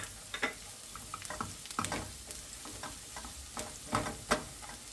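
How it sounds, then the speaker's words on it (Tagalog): Garlic sautéing in hot oil in a pan while making chicken asado filling for siopao, a steady close sizzle broken by repeated clinks and scrapes of a spatula stirring, with no talk. "At igisa natin ang bawang."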